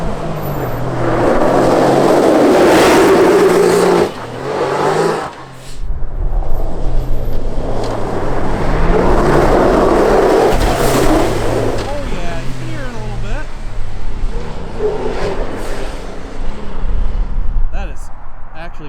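A Can-Am Maverick R side-by-side, fitted with a blow-off valve, revs hard and drifts nearby in repeated loud surges with short breaks between them, while people talk and shout over the engine.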